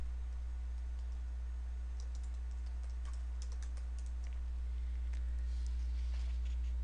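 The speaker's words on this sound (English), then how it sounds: "then we're going to type in February release list" Typing on a computer keyboard, a light patter of close clicks in short runs across the middle, over a steady low hum.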